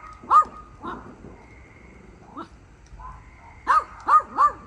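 Dogs bark at a summer campsite while fireworks go off nearby. Several sharp barks come spread out over a few seconds, ending in a quick run of three. They sound moderately near, with no talking.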